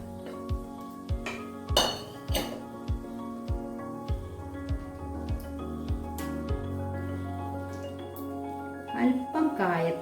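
Cooked rice and split green gram being mixed in a pan, with a metal spoon repeatedly clinking and scraping against the pan in an uneven series of close, sharp taps.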